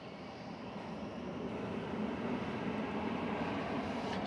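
Jet airliner taking off from runway 20 left at DFW Airport at night, a steady broadband engine roar building gradually in loudness and heard alone.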